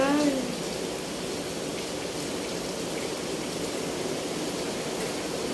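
Heavy rain pours steadily in a broad, constant hiss with a dense patter of drops on surfaces, at an even level throughout, with a brief voice at the very start.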